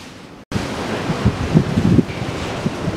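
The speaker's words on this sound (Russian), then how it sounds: "О, ветер буйствует." Strong wind gusts outdoors during work on a 2006 BMW 530i E60 4WD. It makes a loud, rumbling buffet against the microphone after an abrupt cut, surging and easing over a few seconds.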